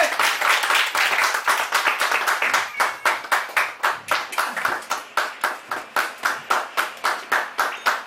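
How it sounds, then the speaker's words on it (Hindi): Rhythmic group clapping from an audience at a herbal products boot camp, starting as mixed applause and settling into loud, evenly timed unison claps repeating about three times per second. "ताली बजाओ मैडम की"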